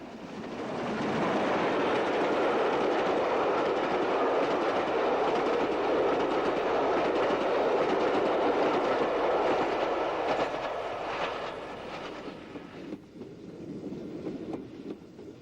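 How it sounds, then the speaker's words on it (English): Flying Scotsman, a steam locomotive at the end of its British Railways career on the East Coast Main Line, runs past with a loud, steady roar and rumble that swells, holds, then eases off toward the end. "This is Flying Scotsman at the end of her British Railways career."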